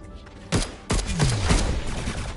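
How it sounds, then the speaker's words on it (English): Revolver gunshots in the video game Alienation: several loud, sharp blasts fire in quick succession, then ring off amid echoing battle noise with no talk. "Revolver."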